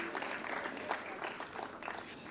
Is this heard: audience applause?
yes